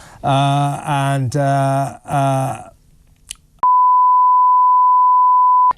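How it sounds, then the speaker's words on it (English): A mobile phone alarm gives a steady electronic beep tone for about two seconds, loud and continuous, following a few seconds of voices talking in a live TV studio. "Whose phone's that's ringing?"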